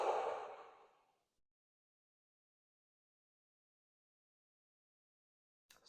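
A single slow, breathy exhale during guided breathing, close and soft, fading away after about a second into near silence, with a faint noise at the very end.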